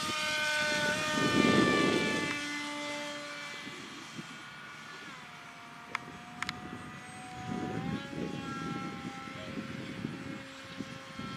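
A ReadyMadeRC Surfer 1500 radio-controlled plane flies overhead with a whining electric propeller tone that rises and falls in pitch as it passes and throttles, over outdoor background noise.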